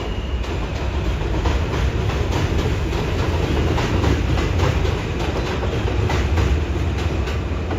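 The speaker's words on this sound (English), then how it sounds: "Subway." A New York City subway train rumbles past in Brooklyn, loud and continuous, with rhythmic clickety-clack of wheels over rail joints throughout.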